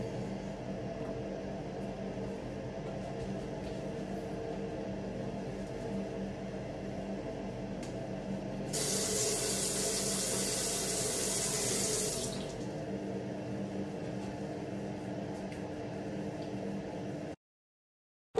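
Tap water runs steadily into a sink while someone washes their face and clothes, with a louder, brighter gush of flow in the middle before it eases back to a steady trickle; no talking.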